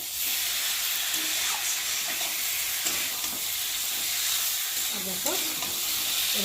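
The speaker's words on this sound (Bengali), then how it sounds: "ঢেলে দেবো একটু বেগুনের সাথে কষিয়ে নেবো" Fish curry with fried eggplant sautéing in a pan, a steady loud sizzle and hiss with occasional scraping stirs of a spatula, no talking.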